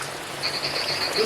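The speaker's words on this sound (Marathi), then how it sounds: "बेडकं पण ओरडत आहेत आणि बेडकं ओरडत आहेत तर पाऊस पण येतो आहे." Frogs croak outside in the rain, a rapid pulsed trill repeating several times over a soft, steady rain hiss, moderately close.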